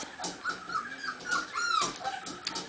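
A five-week-old Border Collie/McNab puppy whimpers and yips in a series of high, thin cries, close and fairly soft, with short pauses between them.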